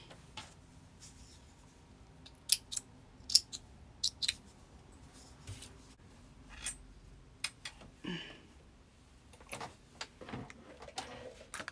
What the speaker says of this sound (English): Just going to snip my threads.